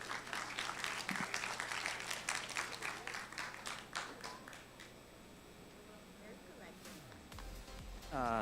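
An audience at a university research congress applauds warmly with dense, sustained clapping that gradually thins out, followed by a voice starting to speak near the end.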